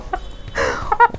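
A few short, harmonic clucks from large broiler chickens, close by, with a brief burst of rustling or flapping in between.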